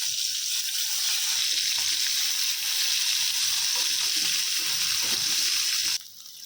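Dried salted goraka fish frying in hot oil over a medium flame, a steady bright hiss of sizzling that holds for several seconds, then drops suddenly quieter near the end.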